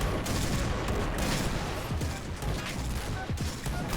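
Rapid bursts of video game gunfire crackle over a dense, busy background, with shots spread unevenly throughout.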